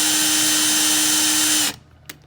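A cordless drill spins an Umarex tuning kit inside a valve, a loud steady high whine with a constant motor tone that cuts off abruptly, followed by quiet room noise and a small click.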